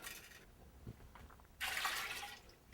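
Water poured into a pot with bay leaves and peppercorns for clam broth, a soft trickle followed by a louder, brighter rush of filling liquid near the end.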